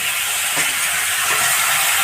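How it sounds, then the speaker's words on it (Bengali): Chicken frying in a pan gives a loud, continuous bright sizzle and hiss, with faint stirring movements underneath and no talking. "চিকেনটা এখন ফ্রাই হবে, তো দেখতে পারছো"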